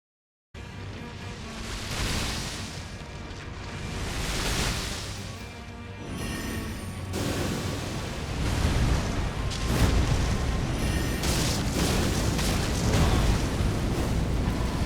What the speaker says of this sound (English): All the explosions are going on.